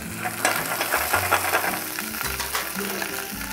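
Skin-on chicken legs pan-fry in oil over lowered heat for braised bento chicken, a continuous close sizzle with occasional crackles and faint tonal hum beneath.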